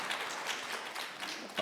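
Indoor audience at a sports museum academic conference applauding, a steady wash of clapping with a voice speaking faintly over it.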